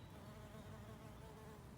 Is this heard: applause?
no